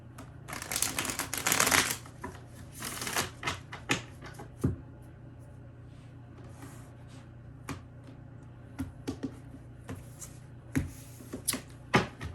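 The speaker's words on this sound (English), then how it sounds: "One more shuffle here." A deck of tarot cards being riffled and shuffled, with a dense burst of flicking early on followed by scattered taps and slaps of cards, close and fairly quiet.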